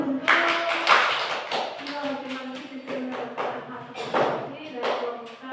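Primary schoolchildren in a classroom clap for groups of classmates, bursts of uneven hand claps mixed with taps and shuffling, with voices talking over them.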